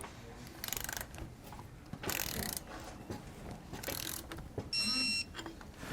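Ratchet wrench snugging down Roadmaster rear sway bar bolts on a 2015 Ford F-53 chassis: bursts of quick ratcheting clicks at close range, separated by short pauses and small metallic clanks.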